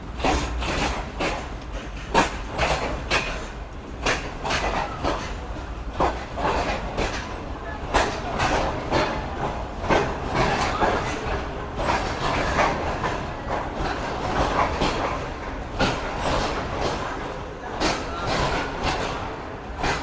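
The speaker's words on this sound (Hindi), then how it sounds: "मज़ेदार ट्रैक साउंड के साथ ट्रेन हमारी अब पहुंच रही है नवाबशाह रेलवे स्टेशन पर" Train wheels clatter rhythmically over rail joints as an express train approaches Nawabshah station in Pakistan, loud and close, a steady clickety-clack rolling on throughout.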